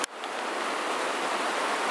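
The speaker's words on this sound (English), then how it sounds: "Looks like I'm going to be fording a river here." A fast-flowing river crossing a mountain trail, a steady, broadband rush of water roaring close by without pause and with no voices.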